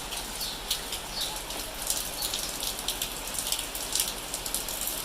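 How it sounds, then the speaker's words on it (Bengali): Steady rain falls in a constant wash of patter, with sharper drips scattered through it and no voices. "ভোর রাত থেকে বৃষ্টি হচ্ছে ঠান্ডা ঠান্ডা ওয়েদার বৃষ্টি হচ্ছে"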